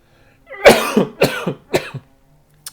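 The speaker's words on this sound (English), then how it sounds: "I started coughing literally right as I started recording the video." A person coughs in a quick series of about four harsh, close bursts, each followed by a short gasp, then falls quiet.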